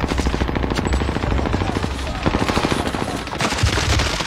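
Gunfire in a shooter video game sounds as rapid, loud shots in a steady stream, close and sustained throughout, with voices faintly mixed underneath.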